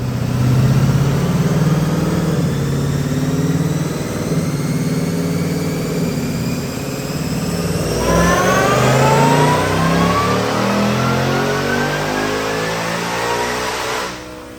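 Roush-supercharged 2024 Mustang automatic with lids removed, revving on a chassis dyno: a loud sustained engine roar climbing steadily in pitch with supercharger whine rising over it, easing briefly and pulling again to a high-rpm peak.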